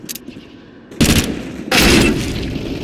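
Gunfire in the video game Counter-Strike, with a faint burst at the start and then two loud, dense volleys of automatic fire, the second rolling on to the end, close and harsh without speech.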